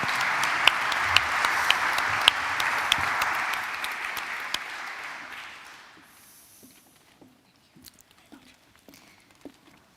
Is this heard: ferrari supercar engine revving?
no